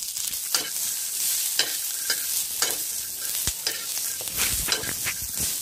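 Peanuts dry-roasting in a pan give a dry, rustling hiss broken by frequent scraping stirs and a few sharp knocks against the metal, close and steady, without speech.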